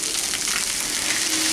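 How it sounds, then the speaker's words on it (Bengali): Water goes into a hot pan of lentils, a loud, close hiss of sizzling that holds steady through the short moment. "এখন আমি এর মধ্যে দিয়ে দিচ্ছি জল,"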